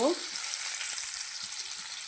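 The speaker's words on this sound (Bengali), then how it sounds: "টমেটো দিয়ে একটু ভেজে নেব" Chopped tomatoes fry in a pan of hot oil, making a close, continuous hiss and crackle that holds steady throughout with no talking.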